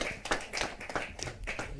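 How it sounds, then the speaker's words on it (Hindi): Sparse clapping from a small audience at a Hindi poetry open mic, several distinct hand claps in an uneven rhythm, fairly close and quiet, with no crowd roar. "जोरदार तालियों के साथ"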